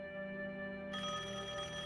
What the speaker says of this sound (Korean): 마침내 벤으로부터 전화가 옵니다.